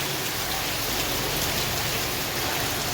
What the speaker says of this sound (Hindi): आपको आवाज़ से ही पता चल रहा होगा कि बहुत तेज़ बारिश हो रही है।